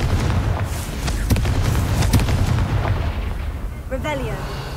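Repeated booming blasts of the Confringo fire spell explode in Hogwarts Legacy, dense heavy thuds and crackling bursts over a rumbling game soundscape, with a brief voice near the end.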